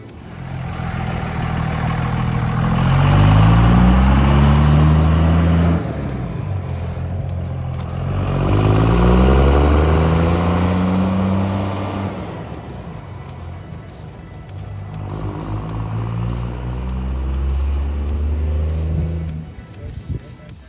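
A truck drives away after idling, its loud engine rising and falling through three rev-and-shift cycles and then fading as it pulls off, with no talking over it.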